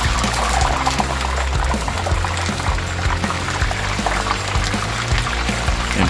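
Pork pieces sizzle and bubble in hot grease for cracklings, a steady dense frying hiss with small pops throughout, close and continuous.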